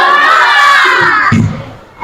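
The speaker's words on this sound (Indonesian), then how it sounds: "kita tepuk semangat dulu" Classroom of schoolchildren doing a spirit clapping chant, a loud burst of young voices and claps together for over a second, then fading into quieter murmur with a thump near the end.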